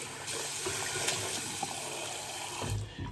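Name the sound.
running water for washing face while shaving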